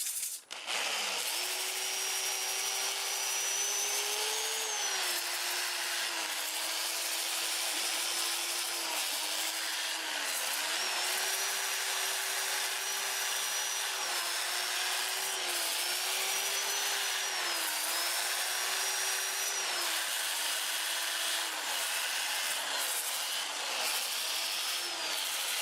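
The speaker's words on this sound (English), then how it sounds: "I'll start sanding with 80 grit" Sandpaper pressed against a wooden piece spinning on a lathe in reverse at about 400 RPM, a continuous close hiss and rub over the motor's steady whine, whose pitch wavers slightly as pressure changes throughout.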